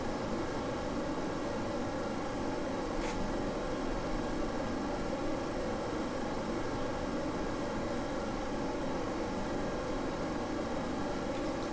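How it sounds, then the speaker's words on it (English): A jet aircraft with afterburners in Kerbal Space Program gives a steady broadband roar that holds evenly throughout at moderate level, alone without voices. "I meant to turn the afterburners on."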